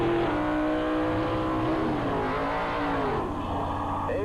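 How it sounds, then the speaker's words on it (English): A long wheelbase dragster doing a strong burnout on the pit side of a 1985 dragway, a loud continuous engine roar with pitch rising and falling throughout. "Eloy Mendez with a strong burnout on the pit side"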